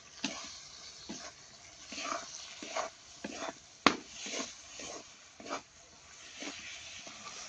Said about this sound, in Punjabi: ਹੁਣ ਆਪਾਂ ਲੈਨੇ ਜੀ ਕੱਟੇ ਹੋਏ ਟਮਾਟਰ ਤਿੰਨ ਟਮਾਟਰ ਆਪਾਂ ਮੀਡੀਅਮ ਸਾਈਜ਼ ਦੇ ਲਏ ਨੇ ਤੇ ਇਹਨਾਂ ਨੂੰ ਆਪਾਂ ਹੁਣ ਮਸਾਲੇ ਦੇ ਵਿੱਚ ਪਾ ਲੈਨੇ ਆ